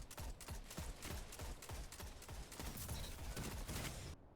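Rapid automatic fire from the MIDA Multi-Tool scout rifle in the shooter game Destiny 2, a dense run of sharp repeated shots in close succession for about four seconds, loud and alone, cutting off abruptly at the end.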